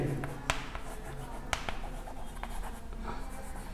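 Pen writing on paper during a maths lesson, with soft scratching strokes and a couple of sharp taps, close and steady over a low background hum.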